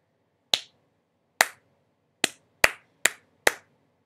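Six sharp hand claps in an uneven rhythm, evenly loud and close, the middle claps coming quicker together, with silence between them.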